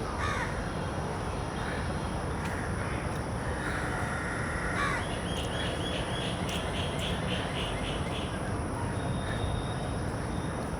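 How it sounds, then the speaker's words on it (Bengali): Crows caw in Ramna Park on a green morning after rain, with several calls in quick runs over a dense, constant background of outdoor ambience and insect-like buzzing. "শুনছো কি পাখিতে ডাকছে?"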